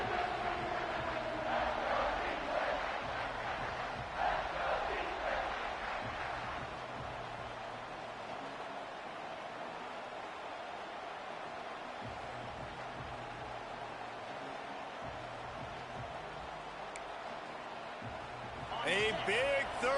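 A football stadium crowd at an Ole Miss versus Oregon game roars before a third down, a broad continuous rumble that is loudest at the start and holds steady beneath commentary, with a burst near the end.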